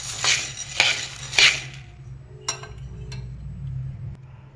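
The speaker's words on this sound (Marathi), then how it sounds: "याच्यात आपण डाळ टाकून घेऊया आणि एकसारखे भाजायचे" Chana dal being dry-roasted in a kadhai for besan laddoos rattles under a stirring spoon in three loud scraping bursts, followed by a couple of fainter clinks and quiet.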